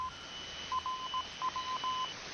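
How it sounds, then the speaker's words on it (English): Faint radio bleeps and bloops, a string of short, thin electronic tones in irregular bursts, float over a steady hiss of static. "All these little bleeps and bloops are really good"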